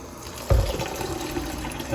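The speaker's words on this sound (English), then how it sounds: "the first thing I'm gonna do is fill this up with cold water" Cold tap water pours into a container, a short splash at the start followed by a steady close trickling fill, no talking.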